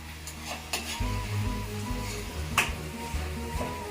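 Tomato pressed and fried in a pan for a dry chicken curry: steady close sizzling with scraping and stirring strokes, plus a sharp metallic clink partway through.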